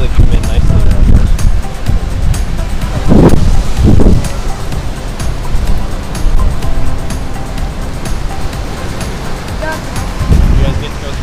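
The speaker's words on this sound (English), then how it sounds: "And the waves really come in nicely around this." Ocean waves surge in around mushroom-shaped rocks on a Guam shoreline, a loud, continuous wash with several distinct crashing swells and wind buffeting the microphone.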